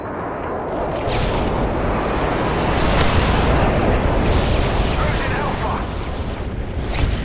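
Airstrike bombs in Modern Warfare 3 go off as loud, rumbling explosions. Heavy booms roll on and overlap across the whole stretch, with sharper cracks near the middle and a voice talking over them.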